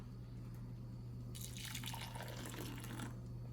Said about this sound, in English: I am going to try my very best to pour this purple cabbage juice into these 3 glasses